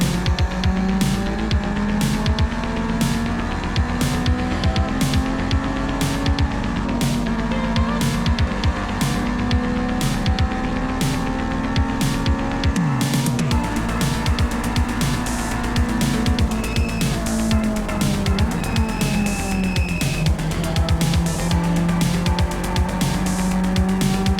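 A race car accelerates off the green flag at the four-mile Elkhart Lake circuit in Wisconsin, its engine loud and close as it climbs through the revs, with tire squeal and other cars roaring around it.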